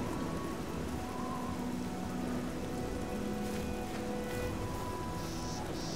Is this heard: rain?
yes